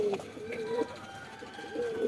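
Pigeons coo softly in a few low, rolling calls, fairly faint, with a quiet voice murmuring in the background.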